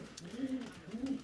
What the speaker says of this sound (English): we got quite a few pigeons from the Albert Babington entire clearance sale